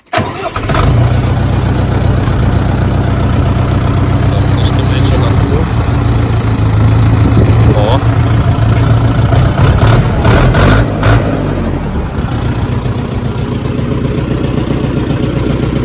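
A Foton FT 354 HX 35-horsepower mini tractor's engine cranks, catches and settles into a loud, close, steady diesel idle, with a few clanks partway through and no speech over it.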